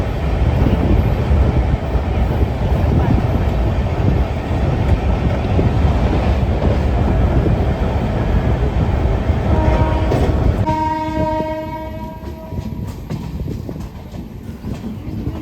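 A Gour Express train hauled by a P7 locomotive with LHB coaches rolls into Malda Town Junction, a loud steady rumble and rattle that eases as it slows, followed by a sustained multi-tone horn blast near the end.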